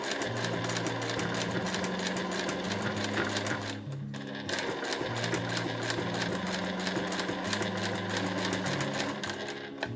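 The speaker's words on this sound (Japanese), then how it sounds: "目打ちでしっかりと固定しながら縫っていきます" Sewing machine stitching a reversible bamboo-handle tote bag, with its rapid steady needle rhythm running close and loud almost continuously, pausing briefly around the midpoint before resuming.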